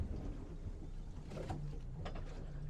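A boat rolls off its trailer into the water after the catch-and-release latch lets go: a low, steady rumble of wind and engine noise, broken by a couple of soft splashes and knocks near the middle, with no voices.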